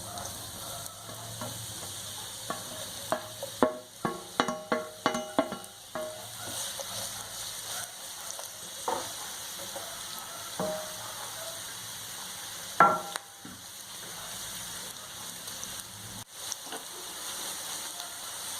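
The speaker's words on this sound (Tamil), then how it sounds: "இப்போது நம்ம அதே பேனில் அதே ஆயிலில் 2 மீடியம் சைஸ் ஆனியனை ஸ்லைஸ் பண்ணி வச்சுருக்கேன். இப்போது இதை நான் இதில் ஃப்ரை பண்ணி எடுத்துக்கிறேன்." Two medium sliced onions frying in oil in a pan, a steady soft sizzle with a run of clattering stirring strokes near the middle and occasional utensil taps.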